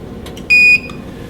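A telestroke cart gives a single loud, steady electronic beep lasting about a quarter second as it powers off, followed by a brief fainter tone, over a low background hum.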